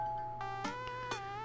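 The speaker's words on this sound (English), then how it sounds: "doorbell rings." Doorbell chime in the video game Dream Daddy, a clear ding-dong of bright tones ringing out alone with short decaying notes.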